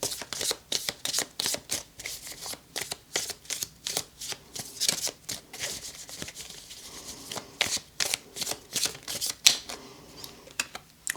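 Tarot cards are shuffled up close, a quick run of crisp riffling snaps and flutters coming in bursts over several seconds, with no talking.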